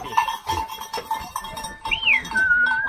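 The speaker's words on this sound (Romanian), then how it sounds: "Capra care se mulge ușor asta." Goats at a sheepfold bleat, with one clear rising-and-falling bleat near the end over a mix of other livestock calls, a cowbell-like clank and scattered background noise.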